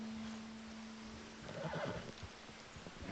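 A horse in the video game Red Dead Redemption 2 lets out a short, shaky whinny over a steady low hum and background hiss, fairly faint and slightly synthetic in tone.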